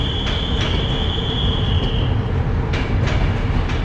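A train rumbles steadily nearby at a Romanian railway station, with a high wheel squeal early on and a few metallic clicks.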